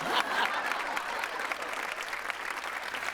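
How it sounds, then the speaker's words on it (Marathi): Audience applause for a contest winner at a Marathi comedy stage show, a dense, steady burst of clapping from a large crowd that holds strong and fairly even throughout. "त्याबद्दल जोरदार टाळ्या."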